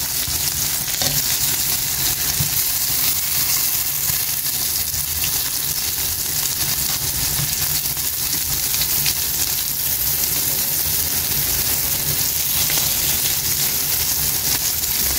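Prawns fry crisp in a pan, a dense, loud, continuous sizzle and spatter filling the whole stretch as they are flipped over, with no talking.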